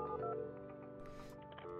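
Telephone dialing tones from the video game Project Highrise: a quick run of short electronic beeps over a steady layered game soundtrack, fairly close and clear with no talk.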